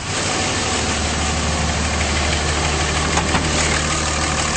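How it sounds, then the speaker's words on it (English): A 2007 Dodge Ram 2500 Laramie 4WD with a 5.9L diesel engine idles under an open hood, a steady, loud, clattering rumble that stays even throughout with no talk. "under the hood, it's a very nice, clean engine bay, running nice and smoothly"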